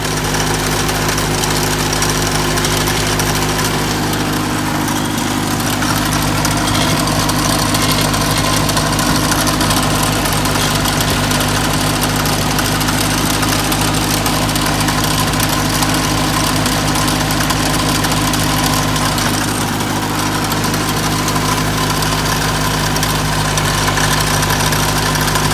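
A Toyota Wolverine engine idles roughly, with a steady, loud mechanical drone and a continuous rattling, chattering texture that holds throughout with no talk.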